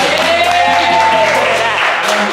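Applause bursts from people on a blind-date show, a loud continuous clapping wash layered with voices and chatter throughout, dropping off slightly toward the end.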